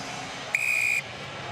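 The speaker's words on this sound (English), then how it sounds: "Whistle goes." A referee's whistle at the 2018 Premiership rugby final between Auckland and Canterbury, heard at the start of extra time: one sharp, steady blast lasting about half a second over the constant hum of the crowd.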